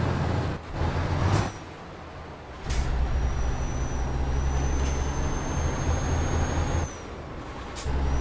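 Truck braking in Euro Truck Simulator 2, with a low engine rumble broken by sharp hissing air-brake bursts near the start, around the third second and near the end, plus a faint high whine, no talk.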